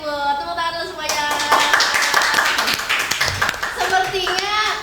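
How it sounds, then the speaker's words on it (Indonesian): An audience on a church podcast claps, with scattered, fairly close hand claps mixed under an ongoing voice, the clapping loudest through the middle. "Tepuk tangan dulu semuanya."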